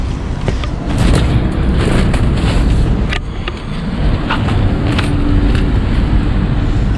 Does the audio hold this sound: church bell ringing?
no